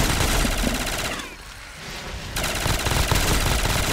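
Death Machine minigun in Call of Duty Zombies, a dense, continuous roar of rapid fire that drops out briefly midway then resumes at full loudness.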